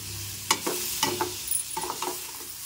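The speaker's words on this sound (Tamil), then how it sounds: "கிண்டி விட்டுக்கலாம்" Spice powder is stirred into an Andhra-style brinjal curry in a frying pan, with repeated spatula scrapes over a steady sizzle, close and clear.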